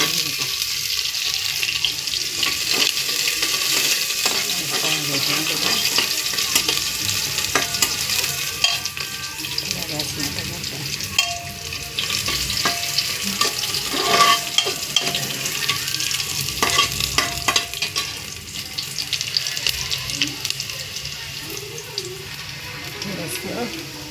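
Onions frying and being stirred in a pan with salt added, a steady broadband sizzle with scraping stir noises running throughout, close and fairly loud.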